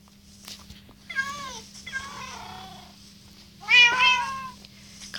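Cats meow in the video game Good Craft, three or four distinct plaintive calls in a row, the last loudest and most drawn out, over a quiet steady background hum.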